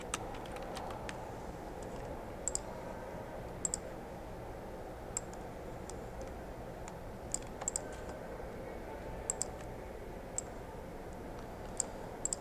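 Soft, irregular keystrokes on a computer keyboard while C code for an arithmetic expression is entered, scattered clicks over a steady low room hum with no voices.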